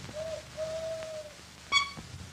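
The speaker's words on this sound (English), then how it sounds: "If it gives two owls, owls and a toot, it's Albert." An owl hoots in the 1937 British comedy film Oh Mr Porter, two drawn-out wavering hoots followed by a sharp higher toot, clear over quiet background hiss.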